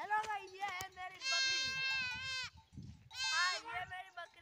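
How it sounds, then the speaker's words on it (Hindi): A goat bleats several times nearby, long wavering cries repeated in bursts, with a voice talking in between. "हां, ये मेरी बकरी है।"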